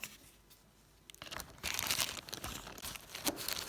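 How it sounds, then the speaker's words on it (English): Plastic crinkles and crunches as the small filter cover comes off a Husqvarna T425 trimmer, quiet at first, then a burst of close, dense rustling and snapping through the last two seconds. "That's a little plastic cover. Take that off, look."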